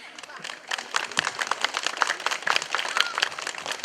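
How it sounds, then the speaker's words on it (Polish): An audience at a Polish community gathering claps briefly, a dense crackling patter of many hands at moderate loudness. "bardzo poproszę o brawa dla tej pani"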